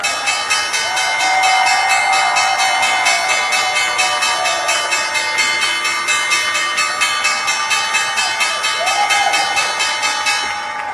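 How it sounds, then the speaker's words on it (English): A bell rings repeatedly at a steady rhythm, loud and sustained with lingering tonal overtones, alongside a low pitched tone that rises and falls in the background. "Melania rang the bell."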